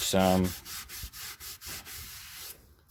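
Hand-sanding a Mitsubishi Pajero alloy wheel with rolled-up sandpaper, a brief buzzy scrape and then steady rhythmic back-and-forth rubbing strokes, close and moderately loud, ending in near silence.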